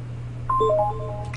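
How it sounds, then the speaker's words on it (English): A quick electronic notification chime: a few short, clean tones step upward in rapid succession over a faint low hum. "You'll hear a little sound once it has uploaded"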